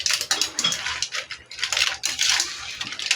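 Mussels stirred in a cooking pot, shells clattering and scraping against metal in irregular bursts, close and fairly loud, with short quiet gaps between strokes.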